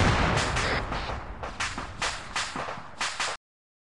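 Winter Chernarus co-op in Arma: a burst of sharp gunfire-like cracks and a rolling blast, several loud impacts spaced irregularly over three seconds before cutting to silence.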